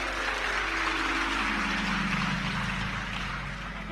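Audience clapping during a Hindi motivational talk: a dense, sustained wash of many hands clapping at once, loud and steady for the whole stretch over a low constant hum, with no voices.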